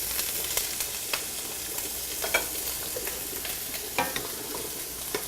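Shrimp sizzling in a hot pan, a steady bright frying hiss broken by scattered sharp crackles and pops, close and alone with no talking.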